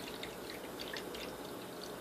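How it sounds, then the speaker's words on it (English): An OWNPETS pet drinking fountain trickles water in a soft, steady stream with faint drips, very quiet and close. "It's like a good little water fountain"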